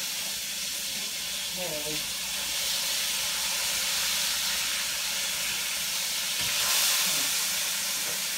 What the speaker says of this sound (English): My meat has fried long enough.